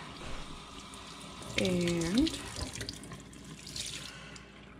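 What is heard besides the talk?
tap water rinsing hand spun yarn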